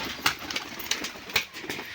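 Giribaz pigeons give soft, faint cooing calls, a few short rounded notes over a quiet hiss of background noise.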